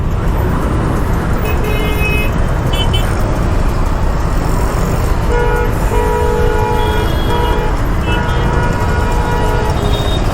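Dense, loud traffic on a flyover in Pune, heard from a moving TVS Jupiter scooter, with a steady roar of engines and repeated car and truck horns tooting throughout.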